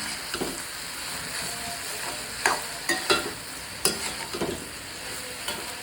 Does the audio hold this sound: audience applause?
no